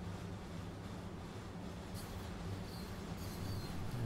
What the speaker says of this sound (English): Power's been found. Train starts to accelerate again.